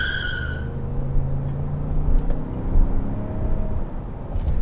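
Ford Expedition Timberline SUV accelerating, its engine rising in a strong steady roar with road noise from inside the cabin.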